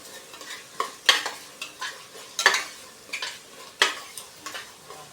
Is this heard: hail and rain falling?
no